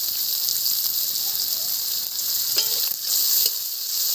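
Chopped onion crackles and hisses in hot oil in a pan of spinach, a steady close sizzle that carries on throughout.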